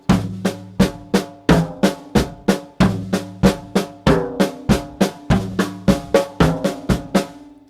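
Paradiddle sticking played on a snare drum, a steady stream of crisp, close strokes with accented and softer hits alternating in an even repeating rhythm, played alone.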